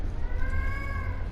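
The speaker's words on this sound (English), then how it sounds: "Sorry about the cat, he's really annoying." A domestic cat gives a single short meow close by, a clear rising and falling cry that stands out over a low background rumble.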